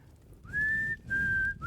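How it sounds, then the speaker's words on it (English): A person whistles a few sustained notes in three phrases, a long held tone, another long tone, then a rising start, loud and close with no talk over it. "You have to do the whistle in a British accent too."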